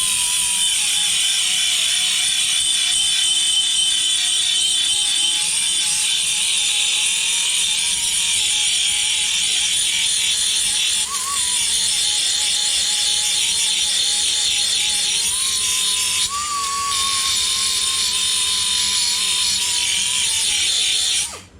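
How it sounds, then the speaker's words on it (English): A belt sander grinds steadily across rust on a Volkswagen Beetle quarter panel, a loud continuous whirring rasp with slight pitch shifts as pressure changes, running alone without talk for about twenty seconds before cutting off. "this is probably the best tool to use, just a belt sander"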